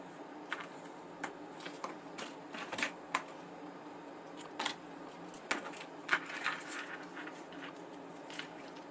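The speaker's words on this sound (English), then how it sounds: "And I'm adding score tape right to the right butted up to the score line." Score tape being pressed onto a cardstock box along a score line: faint, scattered dry taps, rubs and crinkly tape handling at low level, spaced irregularly with short bursts, no talking.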